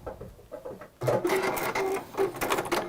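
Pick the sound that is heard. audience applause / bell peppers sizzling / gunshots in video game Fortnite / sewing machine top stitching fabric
sewing machine top stitching fabric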